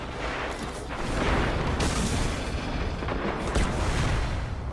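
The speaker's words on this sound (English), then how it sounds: "Grenade got it, but it doesn't do that much damage." A grenade blast in Destiny, a heavy booming explosion amid continuous loud rumbling combat noise that swells around the middle and again near the end, with no voices.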